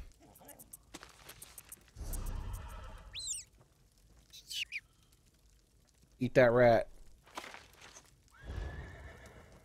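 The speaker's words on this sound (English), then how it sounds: "not a house, but a horse out there losing his mind" A horse in the video game Elder Scrolls Online neighs in a loud shrill whinny, with hoof clip-clops and other game sounds around it and someone talking over parts of the scene.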